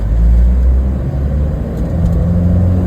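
A 1989 Toyota Land Cruiser LJ70 three-door off-roader engine runs at a steady, loud low rumble while the vehicle turns, with no speech over it.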